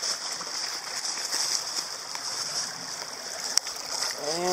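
A dog bounds through a stream: steady rushing water with soft splashing, a sharp click near the end, and a brief tonal sound at the very end.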